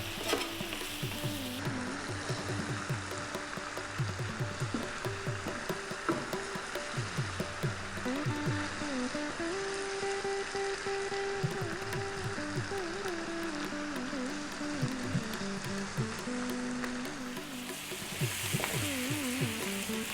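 Spices fry in a hot pan for rogan josh, a steady close sizzle and crackle with stirring scrapes throughout, continuous and fairly quiet, no voices.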